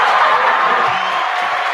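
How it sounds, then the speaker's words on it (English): An audience at a live show cheering and applauding, a continuous roar of crowd noise with whoops blended into a steady wash of sound. "Let me give y'all a round of applause"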